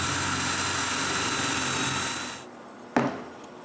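A power drill boring holes in wood for dowels, a steady whining drone for about two seconds that then winds down, followed by a single sharp knock.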